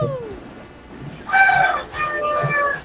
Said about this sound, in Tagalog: Ano yung mga manok na nagtitilawak sa'yo?